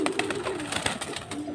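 Pet pigeons of the high-flying Giribaz breed, resting in a loft kept for sale, give off a close, steady run of soft cooing with a few stronger pulses, and no talk over it.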